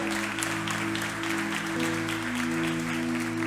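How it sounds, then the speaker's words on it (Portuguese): A church congregation claps steadily and loudly in praise under a held organ or keyboard chord, the applause continuous and dense throughout. "Aplauda o Senhor bem forte."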